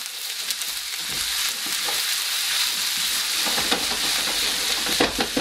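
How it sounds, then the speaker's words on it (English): Vegetables for a nut roast sweating in a pan, a steady close sizzle running throughout with soft scraping stirs breaking through now and then, loud and with no voice. "We're going to stir them up, put the lid on."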